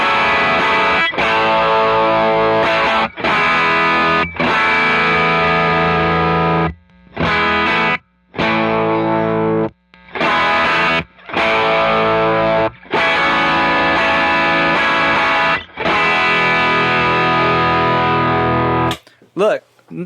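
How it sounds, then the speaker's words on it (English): Electric guitar driven through a Timmy overdrive pedal on a pedalboard, playing loud, gritty distorted chords and riffs in short phrases broken by brief silences, no talking over the playing. "The gain is almost the same, and you hear how gnarly the Timmy is."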